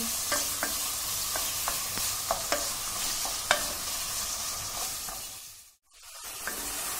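Minced meat and onion frying in a pan for a cauliflower moussaka, a steady sizzle broken by repeated spoon scrapes and taps as it is stirred, briefly cutting out near the end.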